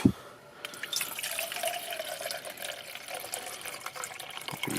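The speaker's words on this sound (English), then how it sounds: "So let's get some water on. All right, we're only going to do about a cup." About a cup of water is poured at a camp cooking setup, a steady faint trickle and splash running continuously at close range with no voices over it.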